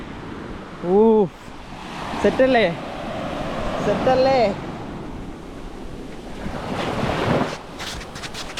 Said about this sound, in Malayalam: കടലിൻ്റെ ബീച്ചിൻ്റെ അടുത്ത് എത്തിയിട്ടുണ്ട്.